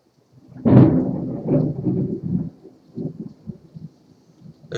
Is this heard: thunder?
yes